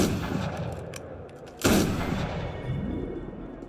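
Gunfire in Assassin's Creed Unity, a single sharp shot at mid-clip standing out over a steady background of game ambience and rumble, with no talk.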